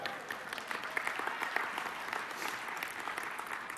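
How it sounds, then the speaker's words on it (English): A live audience claps steadily in a hall, a soft, fairly distant wash of many hands that continues evenly throughout without talk. "I wasn't expecting an applause, but I'm very happy to take that."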